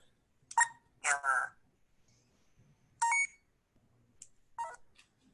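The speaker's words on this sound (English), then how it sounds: "that's the error sound if you're on tones" Error tone from a money identifier device switched to tone mode, heard as a few short, bright electronic beeps spaced across the clip with faint background noise between them.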